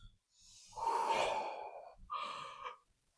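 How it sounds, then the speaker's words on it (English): A person nearby takes a long, audible deep breath in, then lets out a shorter airy exhale, with a few faint clicks before it and no talking. "Go on, take a breath."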